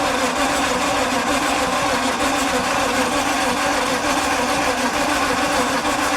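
The engine of a 1953 White WC truck, first run in over 30 years, churns as a steady, loud, rough mechanical drone, with one brief spoken word.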